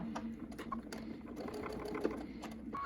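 A sewing machine sews a face mask in a short, fairly quiet burst of fast, even needle ticking over a soft motor whir, with no talk.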